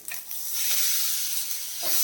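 Coarsely ground coconut paste hits hot oil for a dry fish (nethili karuvadu) sambal: a loud, continuous sizzle swells as it lands in the pan, with a brief stirring scrape near the end and no talking.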